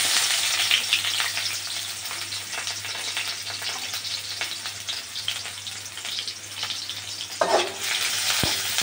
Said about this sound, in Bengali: এবার এগুলোকে হালকা করে ভেজে নেব।